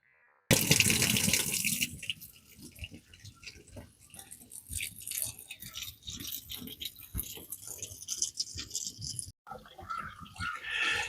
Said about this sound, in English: We'll just leave that trickling in off the tank for now.